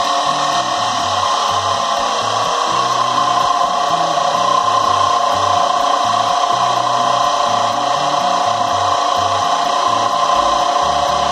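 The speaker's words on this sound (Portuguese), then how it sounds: "Essa é a rotação original do motor" An electric motor on a homemade grinder with pulleys runs steadily off an inverter set to 60 Hz, a loud continuous whine and hum with a faint rhythmic pulsing underneath, no speech.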